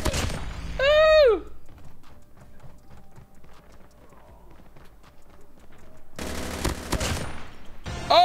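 Dual Chopper machine guns fire akimbo in a video game: sparse clicks and a brief rising electronic tone give way to a dense, loud burst of rapid gunfire near the end.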